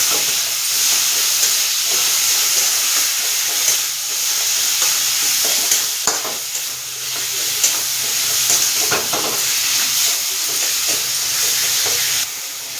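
Tomato and potato fry in hot oil for an egg curry, giving a loud, steady sizzle close by. Occasional stirring scrapes and clicks break through for nearly thirteen seconds without pause.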